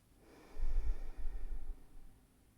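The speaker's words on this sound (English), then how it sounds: "let's take one more deep breath together." A single deep breath taken slowly and close up, a soft airy inhale that swells and fades over about a second, with no other sound.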